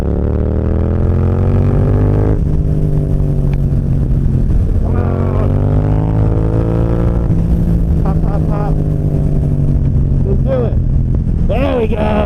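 A 2024 Yamaha MT-07 motorcycle engine drones steadily as the bike rolls onto an old single-lane bridge, its pitch rising and falling through gear changes, loud and close, with voices talking over it.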